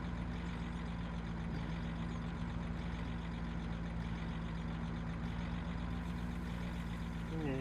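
A truck engine in the farming video game Farming Simulator 17 drones steadily as it drives, a continuous, even, mid-loud hum with a constant low tone throughout.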